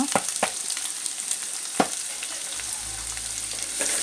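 Small shallots sautéing in hot oil in a pan for Tamil garlic kulambu, a steady close sizzle broken by a few sharp clicks of a spoon against the pan, with no voices.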